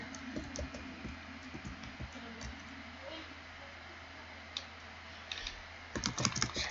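Computer keyboard typing during a Minecraft session, bursts of quick key clicks at the start and a louder flurry near the end, over a low steady background hum.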